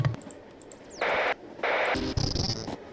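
A radio in a video game gives off bursts of harsh static as it is switched off, two loud hissing blasts separated by short gaps, with faint clicks and a high whine around them.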